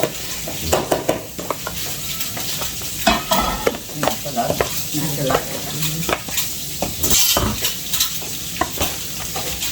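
Pan-fried Chinese-style noodles being stir-fried in a pan, a loud continuous sizzle close by with repeated scraping and clattering of a utensil against the pan, no talk over it.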